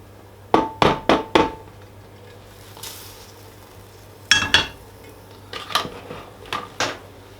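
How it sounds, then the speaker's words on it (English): Boiled chickpeas are tipped back into a bucket with a string of loud, hard clattering knocks in quick bursts, then a scattered rattle of smaller clinks fading out. No voices are heard. "I'm just going to tip the peas back into the bucket"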